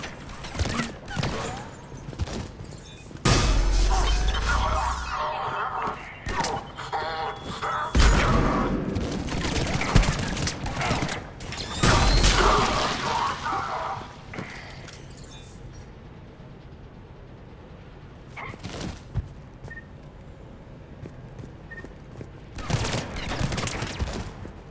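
Firefight gunfire in Mass Effect 3: bursts of rapid shots and sharp cracks come in uneven clusters, loud and close, with quieter gaps between volleys.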